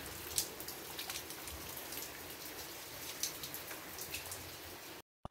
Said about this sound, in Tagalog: Saglit lang din yung ulan.